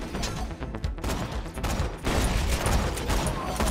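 A Gatling gun in Borderlands 2 fires in dense, rapid continuous bursts, loud and close, with gunfire from other weapons layered in.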